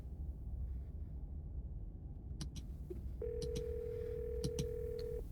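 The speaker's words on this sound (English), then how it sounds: "You once again hear something drop violently on the other end, and then a dial tone." In the video game Scarlet Hollow, a few sharp clicks and knocks of something dropping on the other end of a phone call give way to a steady, clear dial tone lasting about two seconds.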